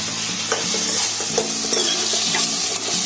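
Chopped onion and tomato sizzle steadily in a pan while a spoon stirs them, scraping and knocking against the metal in irregular strokes, loud and close, with no talking.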